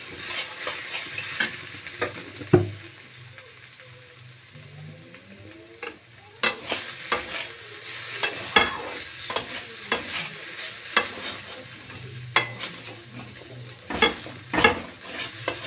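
A spatula scrapes and clacks against a wok in irregular bursts while radish greens sizzle steadily underneath, sticking to the pan, close up, with no talking.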